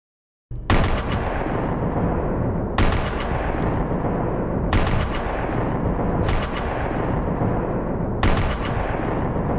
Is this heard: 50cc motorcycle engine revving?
no